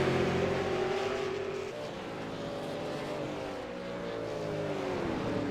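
A race car engine roars at a speedway during a short-track night race, a loud continuous drone whose pitch dips and then climbs again as the car runs, with no talking over it.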